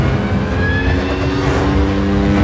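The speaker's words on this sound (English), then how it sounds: "I do it by sound and feel of the bike" A stunt motorcycle engine revs hard and steady during a high-speed run in Norway, a loud close droning roar with wind rush and no pauses.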